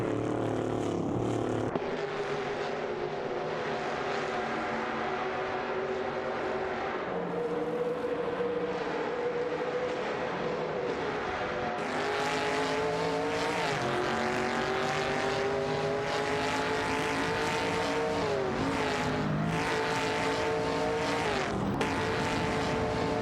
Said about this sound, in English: The cars are really pushing their limits as they enter the first turn.